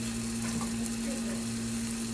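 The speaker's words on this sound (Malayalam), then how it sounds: "അപ്പോൾ ഈ ഫുൾ ചിക്കൻ നമുക്ക് ഇട്ടിട്ടുണ്ട്. ഇത് ഫ്രൈ ആകുന്ന വരെ" Marinated chicken frying in a little oil in a pan, a steady close hiss and fine crackle with a constant low hum underneath, no voice present.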